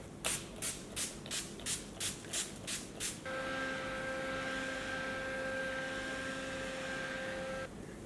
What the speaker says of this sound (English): I'm using the Dewy Finish Setting Spray from NYX Cosmetics.